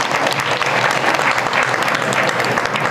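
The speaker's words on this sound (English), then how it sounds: "One big round of applause for all your effort." A temple audience at a spiritual talk claps steadily and loudly throughout, a dense sustained round of applause with no voices rising above it.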